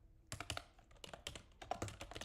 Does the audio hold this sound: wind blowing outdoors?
no